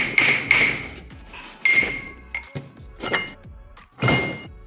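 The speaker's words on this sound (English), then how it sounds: "lightly tap it with a hammer, and it should just come right off" Several hammer taps on a car's ring gear with ringing, pinging overtones, mixed with dull thunks and clunks as the gear works loose, close up.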